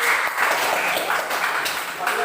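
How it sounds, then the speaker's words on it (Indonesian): A classroom of students claps for a group after its presentation, dense steady clapping close by with voices mixed in throughout. "Tepuk tangan untuk kelompok 1."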